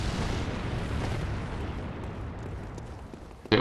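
A deep, rumbling explosion during play of the video game Bloodborne, a loud sustained low roar that slowly fades over a few seconds before a sharp new burst at the very end.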